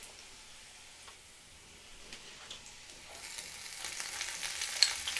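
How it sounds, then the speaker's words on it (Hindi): A pan of garlic sauce fries over a high flame with a soft, steady sizzle and crackle that grows louder and denser toward the end, heard alone and fairly quiet. "और इसे हमें 1 से 2 सेकंड के लिए फ्राई करना है हाई फ्लेम पे।"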